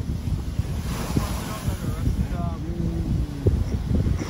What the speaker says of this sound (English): Look at this ocean.